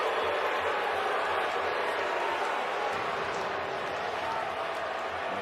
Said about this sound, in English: Crowd didn't like it, and deservedly so.